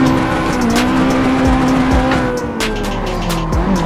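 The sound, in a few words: Nissan 240 car drifting with tire squeal in Assetto Corsa video game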